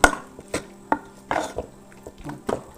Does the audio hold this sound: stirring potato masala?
yes